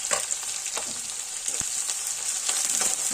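Dried and green chillies frying with finely chopped onion in a pan, a steady close sizzle with faint stirring scrapes, no voices.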